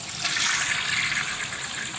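Toilet flushing in a video game, a continuous rush of water with a bright hiss that holds steady for a couple of seconds, close and alone.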